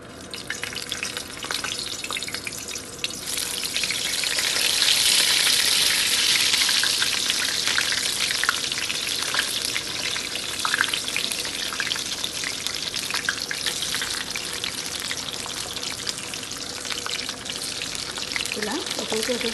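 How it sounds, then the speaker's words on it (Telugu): Mutton samosas deep-fry in hot oil, a dense, steady crackling sizzle that stays loud and close throughout, with faint bubbling and no talk. "ఇలా ఫ్రై చేసుకొని పక్కన కావాలి"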